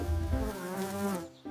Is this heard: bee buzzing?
yes